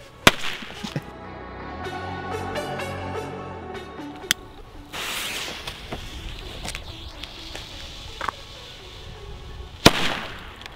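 Firecrackers (Böller) go off in a string of sharp cracks and pops, with a fizzing crackle in the middle and a few louder single bangs toward the end, fairly close by.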